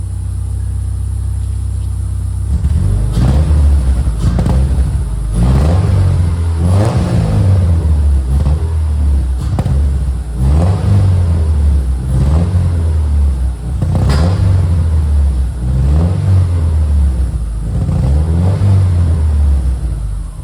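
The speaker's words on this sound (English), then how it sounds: "let's hear some revs real quick." A Subaru Impreza GC8 rally car engine revs repeatedly, rising and falling in steady bursts of throttle that rumble close by for the whole stretch.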